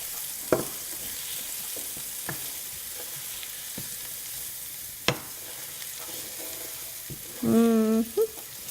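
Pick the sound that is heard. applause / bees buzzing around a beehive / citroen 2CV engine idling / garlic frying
garlic frying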